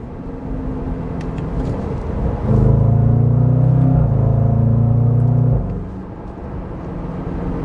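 A 2022 Range Rover Sport SVR with a 575 hp engine and an 8-speed automatic gives a deep, loud exhaust drone that swells for about three seconds over a steady rolling rumble, heard from inside the cabin with no talking.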